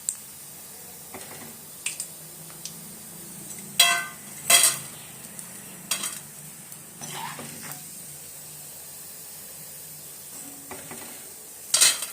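Ingredients fry in a pan with a quiet, steady sizzle, broken by a handful of sharp clicks and scrapes from a utensil, the loudest ones clustered near the middle and the end.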